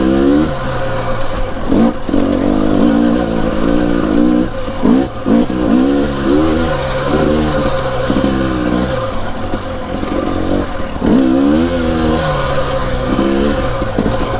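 A two-stroke dirt bike rides a trail in Kennedy Meadows, its engine buzzing loud and close throughout with repeated rising and falling revs as the throttle is worked.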